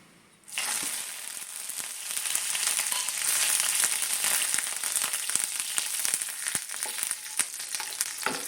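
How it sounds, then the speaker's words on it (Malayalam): Mustard seeds, dried chillies and curry leaves hit hot oil with a sudden loud sizzle that holds steady, scattered with sharp spitting crackles and pops throughout. "അങ്ങനെ കടുകും മുളകും വേപ്പിലയും കൂടി ഇവിടെ താളിച്ച് കഴിഞ്ഞിട്ടുണ്ട്"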